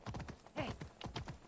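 Horse hooves clip-clopping in Assassin's Creed Odyssey, a steady, fairly quick series of hoofbeats close by and moderately quiet, with one louder hit near the middle.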